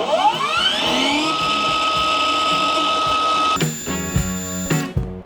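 A ProCraft PGS 20 cordless miter saw spins up with a rising whine, holds a steady high-pitched blade hum at full speed, then shifts to a different buzzing tone with rattling before stopping abruptly.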